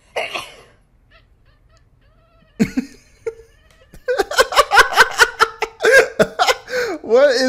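A cat sends out a rapid run of squeaky, yowling cries that pulse in quick bursts, loud and close, after a few scattered sounds and a short breathy noise; near-constant vocal sound with giggle-like tones blends in.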